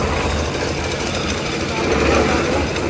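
A tractor engine chugs steadily nearby at a house construction site, a continuous rough mechanical rumble that swells slightly toward the end.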